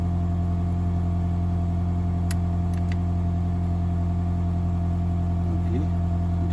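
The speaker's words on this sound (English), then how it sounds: "Okay, so now the car is started." A 2010 Toyota Auris Hybrid with a weak 12 V battery runs steadily after being started, giving a constant low hum with strong steady tones and a faint rumble and no revving. A couple of brief clicks stand out.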